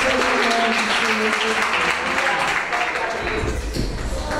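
Sustained applause from a church congregation during a worship service, steady and fairly loud, filling the whole stretch with dense clapping.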